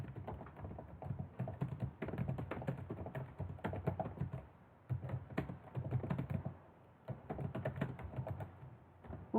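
Steady run of computer keyboard typing with short pauses, close and clear, from someone formatting a Word document; no talking over it.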